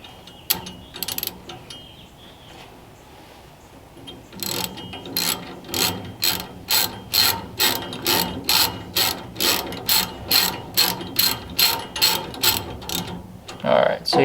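A ratchet tightens the bolts of a steering wheel puller kit with a crisp, regular run of clicks, close and fairly loud, starting after a quieter pause with brief handling noises.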